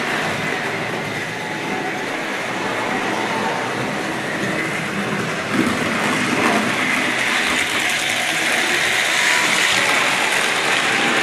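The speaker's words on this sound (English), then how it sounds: "I'm sure you can hear the typical serrated wheels, the diesely noise they called it." A Hornby Triang Rovex model train with serrated wheels runs steadily nearby, producing a continuous buzzing, diesel-like rolling whir with light clicking, unchanged throughout.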